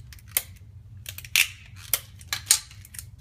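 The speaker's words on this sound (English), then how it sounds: "So I'm just going to cut a couple little pieces." Scissors snip several small pieces of Scotch tape in a quiet room, with about five crisp, short cuts spaced irregularly over a few seconds.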